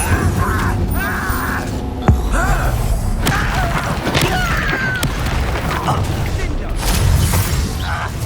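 Spell effects from casting Incendio in Hogwarts Legacy ring out amid combat, with whooshing bursts, a sharp thump and crackling impacts layered over busy battle noise and a voice shouting.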